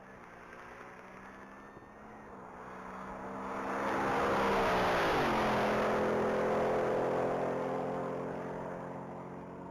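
Black 2024 Ford Mustang RTR Spec 3 on a Texas Mile top-speed run, its engine note rising and swelling to a loud, sustained roar as it approaches and passes, with harmonics sweeping down, then fading slightly with distance.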